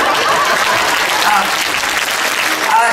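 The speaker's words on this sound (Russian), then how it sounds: "аплодисменты." Audience applause at a live performance or stage event, a dense steady wash of many hands clapping at full loudness for the whole stretch, with faint voices mixed in.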